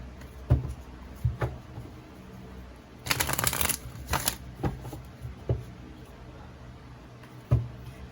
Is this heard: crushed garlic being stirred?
no